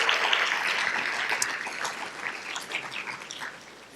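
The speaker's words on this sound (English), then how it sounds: "Let's give them a big round of applause as well for tonight." Audience at an evening awards celebration applauds, a broad wash of clapping that starts strong and gradually thins out, with scattered sharp claps standing out near the end.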